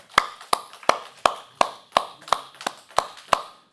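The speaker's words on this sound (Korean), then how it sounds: "박수 한번 쳐보겠습니다" A group claps in unison during a church youth Bible lecture in Incheon, nine or ten crisp, evenly spaced claps in a steady rhythm, close and clear, with no talking.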